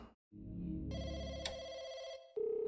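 A telephone rings in a horror video game, a steady electronic bell tone sustained for about two seconds over a low game ambience, then a louder tonal ring starting near the end; no talking.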